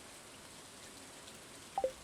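Soft, steady rain falls in a video game, a faint even hiss with a couple of brief tonal blips near the end and no talking.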